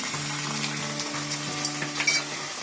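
Ginger-garlic paste sizzles in hot oil with frying onions for jeera aloo, a steady close crackle with faint stirring scrapes and a few brighter spits near the end, no voices.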